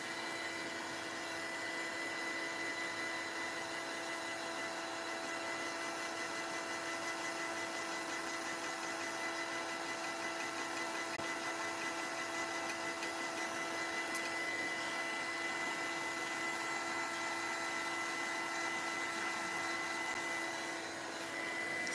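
A handheld heat or air blower drying heavy gel on a pumpkin craft piece, giving a steady, loud, continuous whooshing hum with no pauses throughout.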